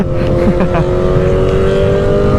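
A Suzuki Hayabusa sport motorcycle engine with a loud exhaust roars steadily up close, a loud, constant mechanical drone with a slight rise in pitch.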